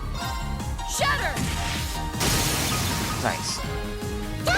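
A shattering attack in Trails of Cold Steel lands as loud crashing impacts with a whooshing swipe and breaking burst, over busy battle music and voiced combat shouts.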